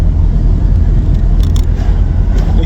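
A VW B3 Passat with a PD150 engine and ASD gearbox cruising in fifth gear, heard from inside as a steady, loud low rumble with even road noise throughout and no talk.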